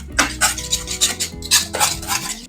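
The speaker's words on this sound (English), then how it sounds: "Whisk it in right away and it'll become super smooth." Grated Parmesan being whisked into hot polenta in a pot, giving rhythmic scraping and clinking strokes of a whisk against the pot, repeated in quick bursts at close range with no talking.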